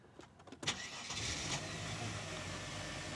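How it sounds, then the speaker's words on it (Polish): A car engine cranks with a few quick clicks and turns, then catches and settles into a steady idle, close by and on its own. "No i przekręcamy kluczek."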